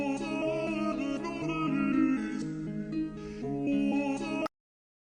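A beat sample slowed by a Halftime plugin on its 1/8 setting gives a dense, heavy, half-speed groove with layered pitched sounds and drums, moderately quiet, then cuts off abruptly.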